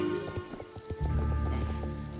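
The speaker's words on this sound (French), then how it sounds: "voilà ce que j'appelle monter à cheval" Horse hooves clip-clopping at a quick, steady riding pace in the online game Star Stable Online, a close, fairly soft run of repeated thuds with a faint music-like drone beneath.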